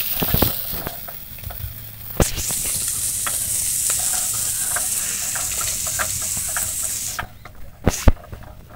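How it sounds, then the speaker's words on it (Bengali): Crabs fry in a pan with a continuous close sizzle, broken by several sharp utensil clinks and scrapes, and the frying sound drops away briefly near the end. "কাঁকড়াগুলো ভাজা ভাজা হয়ে গেছে"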